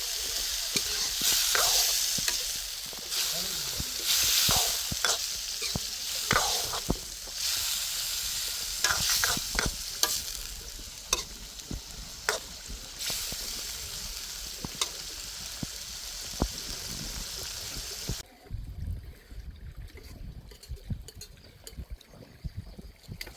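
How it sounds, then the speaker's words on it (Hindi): Chicken sizzles loudly in a pot at a village cookout, stirred with repeated scraping and knocking strokes over a constant fry hiss that thins out toward the end. "अब चिकन डाल देंगे। चिकन को दोस्तों अच्छी तरह से मिक्स करेंगे।"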